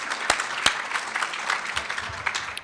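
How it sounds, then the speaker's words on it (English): Audience applause at a business and law enforcement panel, a steady crowd clapping with a couple of sharp, close individual claps standing out early on. "So let's give Brian Daly a round of applause."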